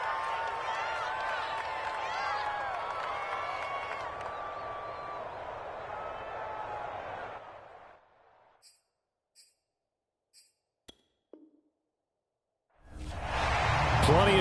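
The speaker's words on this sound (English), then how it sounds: "Plenty of shouts from this crowd as they watch the replay" A stadium crowd at a Browns vs 49ers football game shouts and roars in a dense, sustained wash during a replay. It drops to near silence with a few faint clicks, then swells back loudly.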